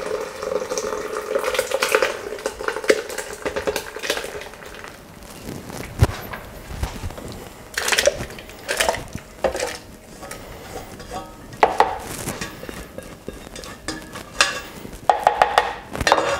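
Artichoke soup is poured and scraped into a blender, with clattering of a pot and utensils, intermittent knocks and wet sloshing close by.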